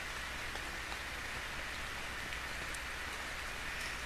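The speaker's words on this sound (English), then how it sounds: "and it's raining." Steady rain in the game ARK: Survival Evolved hisses down continuously with occasional faint droplet taps, a soft, even wash of sound throughout.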